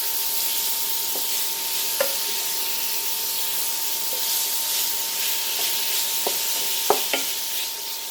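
Beef browning in a pan and being stirred, a steady loud sizzling hiss with a faint tone and a few sharp scraping clicks as the meat is moved around.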